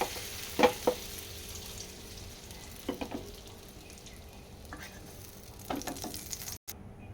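Brinjal pieces fry in hot oil with a low steady sizzle, and occasional utensil scrapes and taps come through as the pieces are moved around the pan.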